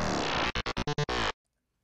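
A gritty FM bass patch built on the Reason Thor synth opens with a sustained note, then breaks into five quick stuttering hits and one longer burst before cutting off to silence. It is loud and heavily distorted.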